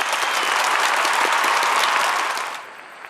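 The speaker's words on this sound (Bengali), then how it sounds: "আকাশের জন্য একটা হাততালি হয়ে যাক" Applause from a studio audience during a Bengali game show, a dense steady clatter of many hands that holds strong for about two and a half seconds, then falls away quickly into a faint room hush.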